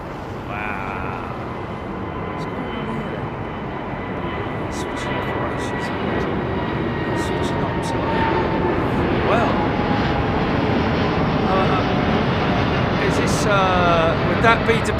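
Aircraft departing a runway at London Heathrow Airport: a broad, steady jet roar that holds at a constant level throughout, with people talking faintly over it.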